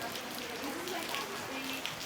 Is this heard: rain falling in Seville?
yes